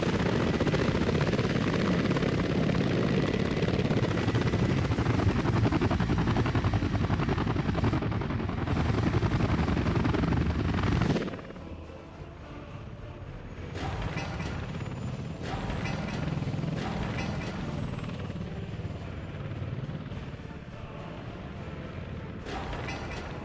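Sky Crane helicopter rotor in a video game, a loud steady thrum for about eleven seconds, then dropping to a quieter, continuing rotor hum with scattered clicks and mechanical knocks.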